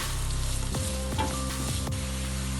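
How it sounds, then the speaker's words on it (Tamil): Green chillies and chopped onion sauté in an oil-filled pan for chicken macaroni, a close, continuous sizzle with occasional stirring scrapes over a faint steady hum, no voices. "இதை நல்லா கொஞ்சம் கோல்டன் கலராக வர வரைக்கும் வதக்கிக்குவோம்."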